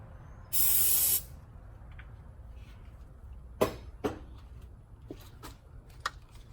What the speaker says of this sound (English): I'm just going to spray some on a rag.